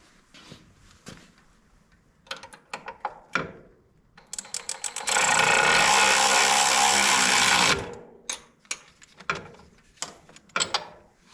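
Ratchet turning to tighten bolts while a Minn Kota Raptor shallow water anchor is mounted on a boat, quick bursts of clicks, then a few seconds of continuous buzzing, then more scattered clicking, close and loud.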